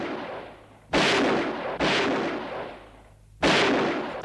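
Three loud gunshots ring out at uneven intervals, each a sharp crack followed by a long, booming decay, as security forces come under fire in an armed clash, with no voices.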